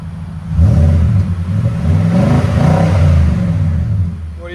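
Nissan Titan pickup with a 5.6L V8 and aftermarket exhaust revving hard: a loud, deep rumble rising and falling in pitch across the rev, close up, with no speech.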